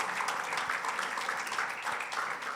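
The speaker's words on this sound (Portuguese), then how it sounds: "Quem pode dar uma salva de palmas a Jesus?" Church congregation applauding during a sermon, a steady wash of clapping at moderate distance, continuous throughout with faint voices beneath.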